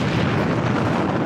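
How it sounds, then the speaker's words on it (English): A huge explosion in action TV footage rumbles as a loud, dense blast that fills the whole moment and then cuts off abruptly. "A huge explosion."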